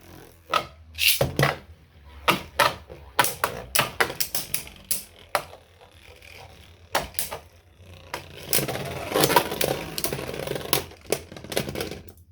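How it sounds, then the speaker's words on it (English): Beyblade Burst Surge tops launched into a stadium and battling, with a run of sharp clicking taps and knocks that gives way to a sustained rough, scraping whir of spinning tops. "let's do another battle since that got ended short. Okay, let it rip"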